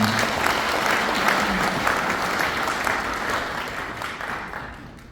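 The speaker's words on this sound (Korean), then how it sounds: "좋은 말씀을 해주신 양재권 회장님께 다시 한번 박수 부탁드립니다." Audience applause for an association chairman at a Korean regional association lecture gathering in 2024, a dense steady wash of many hands that gradually fades toward the end, with no talk over it.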